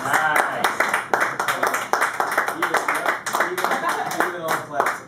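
A small radio studio crowd claps in a quick, uneven patter of hands lasting several seconds, mixed with voices talking and laughing over it.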